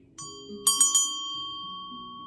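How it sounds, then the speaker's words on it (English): A meditation bell rung for a heart chakra session: three quick bright strikes close together, then a clear sustained ring that lingers and fades, with a faint voice beneath. "I'm gonna just ring the bell"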